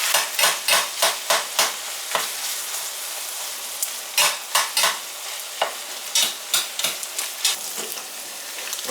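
Sausage and chorizo rendering in a high-sided pan, a steady sizzle broken by repeated sharp scraping strokes of a utensil stirring, coming in quick rhythmic bursts with short pauses between.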